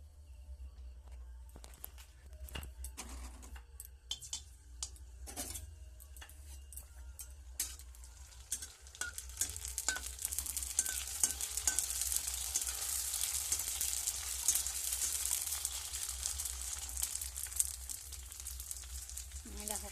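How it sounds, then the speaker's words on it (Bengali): Fuchka puris fry in hot oil, a soft continuous sizzle that builds and grows denser partway through, with scattered clicks and taps of a utensil against the pan at irregular intervals and no talk. "এরপরে ফুচকা ভাজবো, দেখতে থাকো কিভাবে ভাজছি,"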